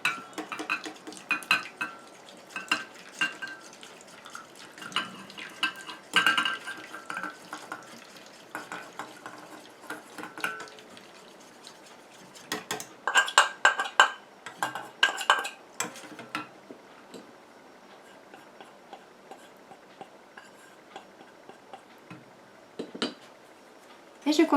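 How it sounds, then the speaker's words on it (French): A cosmetic emulsion for a gentle jojoba-bead face scrub, stirred in a bowl, makes repeated close clinking and scraping of a utensil against the bowl in irregular bursts, loud at times and quiet between. "Et je continue à mélanger comme ça jusqu'à ce que mon émulsion épaississe et refroidisse."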